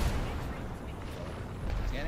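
Grenade blasts in a first-person shooter video game boom as a low rumbling burst beneath gameplay noise, fairly loud, with players talking over it.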